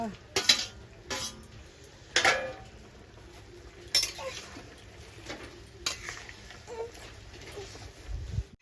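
Eggplant and bitter gourd tossed into a pan and stirred for Bengali shukto, with a few distinct clanks of a spoon against the pan over a soft low sizzle, close and moderately quiet.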